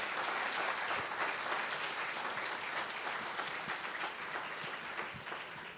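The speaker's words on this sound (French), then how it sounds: "Would you give the Lord a clap offering of praise?" A church congregation claps in praise of the Lord, a dense, steady wash of many hands that holds for the whole stretch and fades slightly near the end, with no voices.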